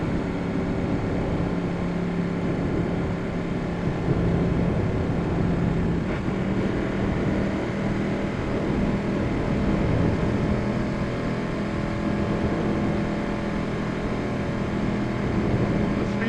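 A Ducati 1199 Panigale motorcycle engine roars in a loud, steady, close drone for the whole stretch, with no voices over it.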